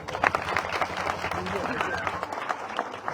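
Crowd applause at a political rally, a dense patter of many hands clapping together for a few seconds, with a voice talking over it.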